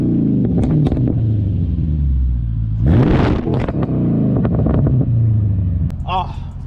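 A Mercedes CLK 500 with a custom exhaust burbles deep and throaty at idle, then revs up sharply in a loud roar before settling back into a low rumble.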